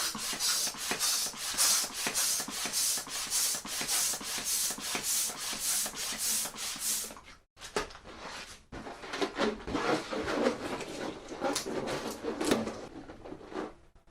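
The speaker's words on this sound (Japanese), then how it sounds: "結んだバルーンごと透明なバルーンの口元から中へ戻し、再度バルーンを膨らませます。" A rubber balloon pushed inside a clear balloon and reinflated: steady, close squeaky rubbing and stretching of rubber, a brief pause, then more squeaks and rubbery friction as air fills it.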